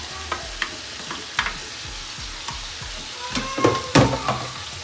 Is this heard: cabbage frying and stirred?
yes